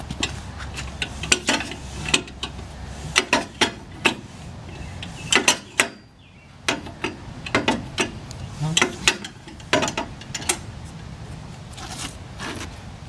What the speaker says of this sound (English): I'm going to choke it and turn it over a couple turns.